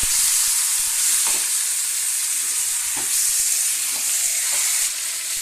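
Meat sizzles loudly in a pan, a steady dense frying hiss throughout, with a few soft scrapes from occasional stirring and no voices.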